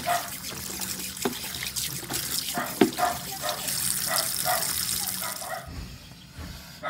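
Eggs being rinsed a third time in water before salting, with running tap water and splashing, trickling sounds in a sink, steady and close, with occasional knocks.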